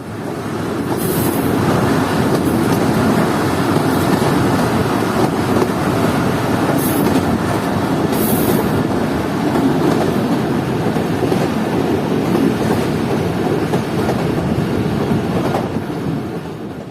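The Chaman Passenger, a stone-proof train running from Quetta, heard from on board as a loud, continuous rumble with steady wheel clatter on the rails and no talk.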